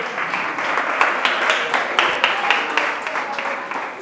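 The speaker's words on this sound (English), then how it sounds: "A round of applause for him." An audience at a youth talk on navigating teenage years claps in applause, a steady crowd wash with distinct sharper individual claps standing out, loud throughout.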